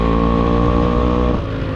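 A Yamaha RX135 two-stroke motorcycle engine runs close by after starting, a loud, steady buzzing idle that dips slightly in pitch near the end.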